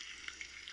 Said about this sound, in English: I'm adding a few pieces of pepper to the oil.